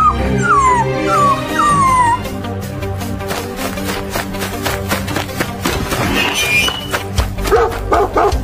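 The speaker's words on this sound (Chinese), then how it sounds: "哪来的臭狗，叫什么叫" A dog barks repeatedly in a cartoon scene, sharp close barks and yips mixed with whimpering and howl-like sounds over a busy music and effects bed.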